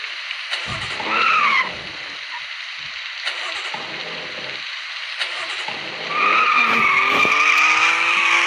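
A car's tires squeal as it skids, two sharp rising screeches with engine noise between them, the second longer and louder, with muffled voices in the background.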